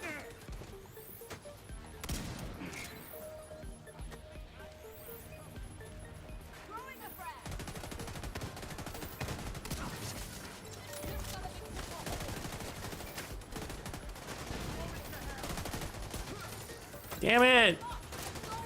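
Scattered gunfire in The Division 2, fairly quiet and continuous under frequent talk, with a sharper burst near the end.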